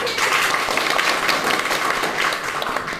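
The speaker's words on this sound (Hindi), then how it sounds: "ताली बजा दो भाई" A crowd claps together in a continuous, fairly loud round of applause with no talk over it.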